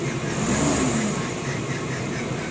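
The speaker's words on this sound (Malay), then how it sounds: "Engine pun dengar macam tidak power" A car engine idles low and steady with a dull, slightly uneven rumble, close by, with no other sounds; the idle drops to about 500 rpm and sounds weak.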